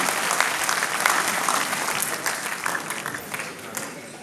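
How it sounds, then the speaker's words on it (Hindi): A large audience at a Hindi nationalist poetry recital claps in a dense, sustained burst of applause that gradually thins and fades toward the end. "तालियों से उनका अभिवादन कीजिएगा।"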